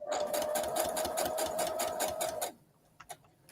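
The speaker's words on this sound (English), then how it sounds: "I'll just sew some more of these little triangles." A sewing machine stitching small fabric triangles runs with a steady rapid mechanical whir for a couple of seconds, then stops, followed by a few faint clicks nearby.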